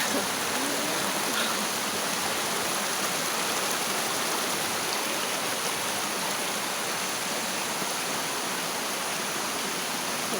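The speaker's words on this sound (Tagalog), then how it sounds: "Ang bibidyoan ang sapa guys" A creek flows in a steady, unbroken rush of water, close and evenly loud throughout with no voices.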